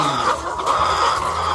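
Several chickens on a farm cluck together nearby in a busy, continuous chatter, with no one talking.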